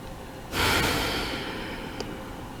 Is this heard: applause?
no